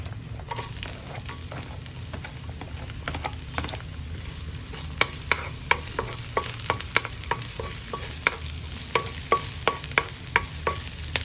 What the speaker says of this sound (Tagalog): Saute the garlic.